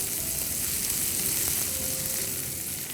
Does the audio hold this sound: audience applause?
no